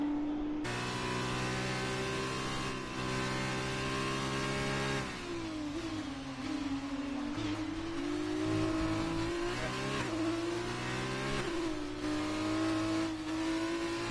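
An F2 race car engine in a racing video game on a hot lap: a steady, loud, high whining engine note that shifts pitch with gear changes and throttle, continuous and close with no talk.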